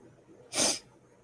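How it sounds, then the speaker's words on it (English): One short, forceful nasal blast, close to the microphone, like a person blowing their nose into a tissue, with quiet room tone before and after. "I got to blow my nose"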